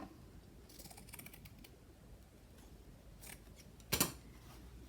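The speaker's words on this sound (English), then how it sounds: "let's cut some of that apart too" Scissors snip through craft material for a lap book cover, a few quiet close cuts followed by one sharp, louder snip near the end, in an otherwise still room.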